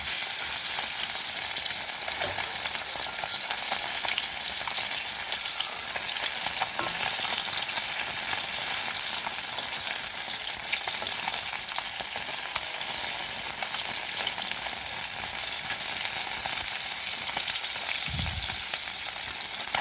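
Kawoi fish frying in hot oil give a steady, loud, broadband sizzle that holds without a break for the whole stretch, with faint stirring scrapes and no voices.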